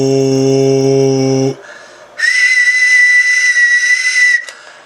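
A person whistles into a Uniden 980 SSB radio: a low buzzy tone for about a second and a half, a short gap, then a loud, steady high whistle held for over two seconds before it cuts off.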